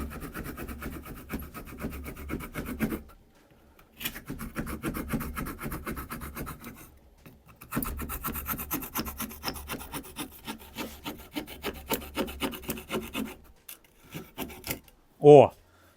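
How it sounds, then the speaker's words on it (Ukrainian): A multitool's small saw rasps through wood in steady back-and-forth strokes, three bursts broken by short pauses, ending with one brief sharp noise. "Пиляє гостренька, в два сторони зуби розведені."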